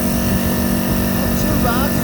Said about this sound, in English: as you can hear, the compressor motor is still working hard to try and keep up